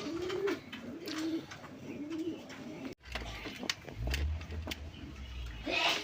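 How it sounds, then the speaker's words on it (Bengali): Rajgolla pigeons, a native round breed, coo in repeated low, soft phrases at close range, with a few chirps and some handling rumble in the second half. "রাজগোল্লা কবুতর, মানে গোল্লা আমাদের দেশীয় কবুতর"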